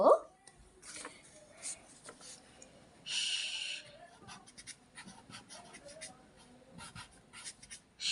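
A pencil or pen scratches across paper in short intermittent strokes, soft and close, with a burst of brisker scribbling partway through and faint background noise around it.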